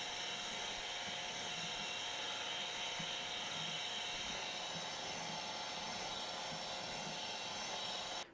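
A 60-year-old Sanford SG baby surface grinder works a hard piece of cold rolled steel, giving a steady, continuous whirring grind with a broad hiss that holds evenly throughout and cuts off abruptly at the very end.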